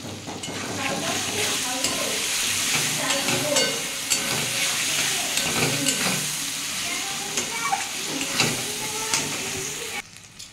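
Potato and pointed gourd curry sautéing in a pan with a cashew, tomato and mustard paste, giving a loud, continuous sizzle and hiss broken by frequent stirring scrapes, close up and without talk.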